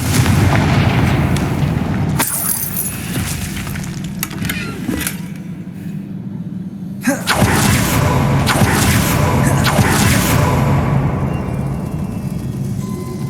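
A Confringo blasting spell goes off in the Hogwarts Legacy video game, producing heavy booming blasts and rumbling debris, loud and close, with a brief quieter gap in the middle before the roar returns.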